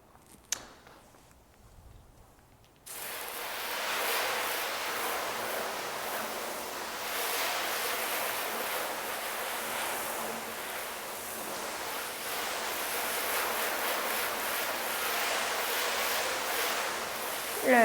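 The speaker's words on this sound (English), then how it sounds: "Let's rinse this off, see if you notice any difference now." A steady, broad hiss of water spraying onto a car to rinse off paint coating sets in after a few quiet seconds of faint handling noises and then runs continuously at an even level.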